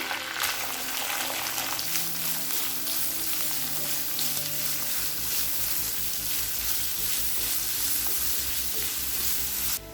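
Chopped onions sizzle loudly in a hot pan, a continuous hissing fry with occasional scraping and stirring sounds.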